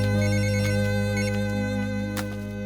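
A phone ringtone plays a steady electronic tone with a repeating melodic pattern, close and clear, with no voices.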